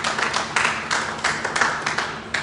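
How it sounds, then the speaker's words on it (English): A modest audience claps for high-ranking officers at an anti-human-trafficking event, a thin scatter of hand claps that pulses unevenly without building into loud applause. "Round of applause, please."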